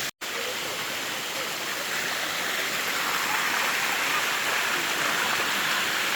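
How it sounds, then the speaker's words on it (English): Steady, loud rushing water from a waterfall in Thailand fills the scene continuously, a broad hiss without pause after a brief dropout at the start. "it's pretty crazy to just walk up a waterfall"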